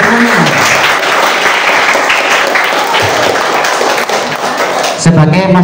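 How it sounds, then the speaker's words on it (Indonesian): Loud, dense applause from a crowd cheering quiz winners at a school event, continuous clapping close by that tapers off at the end as a voice starts up. "Tepuk tangan untuk semuanya."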